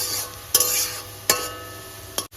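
Chopped onions with dry chilli fry softly in a pan, a steady low sizzle with a few sharp stirring scrapes at intervals.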